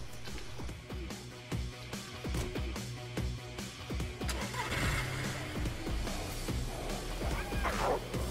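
Car driven in an online survival game to run over a pack of wolves, its engine a steady low drone under repeated thuds, crashes and clatter, with snarling and barking mixed in throughout.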